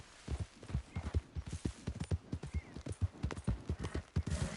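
A horse walking in the video game Red Dead Redemption 2, its hooves clip-clopping in a steady, even rhythm, fairly quiet and close, with no talking.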